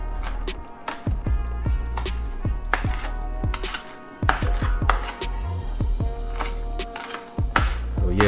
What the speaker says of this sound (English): we want to get that chopped really well